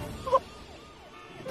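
Ambulance siren stuck in heavy traffic, its wailing tone faint and somewhat distant, rising and falling over a low traffic rumble.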